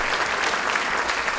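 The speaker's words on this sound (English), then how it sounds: "Have a nice big round of applause up there for Bob" Audience applause for a CEO named Bob at a health system's evening gala, a steady wash of clapping throughout with no voices on top.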